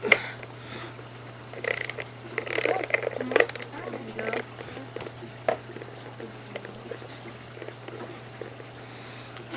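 A ratchet socket wrench turns a bolt during cushion removal on a Labeda Proline skate, giving quiet, irregular bursts of clicking pawl ratchets over a steady low hum.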